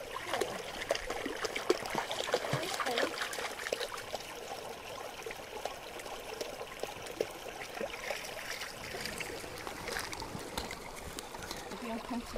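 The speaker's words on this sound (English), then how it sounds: "there's still a fair old flush on it going into the reservoir" Stream water flushing steadily into a reservoir near a submerged bridge at Baldwin on the Isle of Man, a continuous broadband rush and trickle heard outdoors, fairly faint, with occasional voices of people talking nearby.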